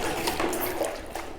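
A plastic paint roller being wetted in water makes a brief, soft sloshing and dripping sound, close and quiet, with no speech.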